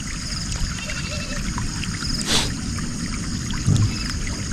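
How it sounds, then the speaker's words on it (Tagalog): Irrigation water flows through a channel in a farm field, a steady low rushing wash under open outdoor ambience, with a brief brighter splash partway through. "Maganda ng daan ng tubig."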